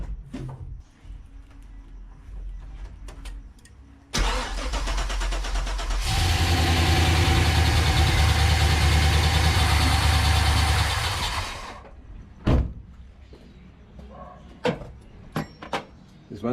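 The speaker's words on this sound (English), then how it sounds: "let's turn the key and see how it starts." An LS V8 fitted with an individual throttle body kit cranks briefly, then catches and settles into a loud, steady idle for several seconds before shutting off, followed by a few sharp clicks and knocks.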